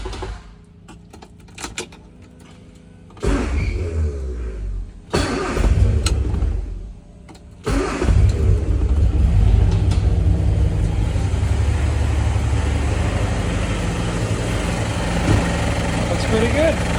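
A 1960 Austin Mini engine, with one metric bolt among its hardware, cranks over with a few loud false starts and then catches, settling into a steady rumbling idle that runs on loudly to the end.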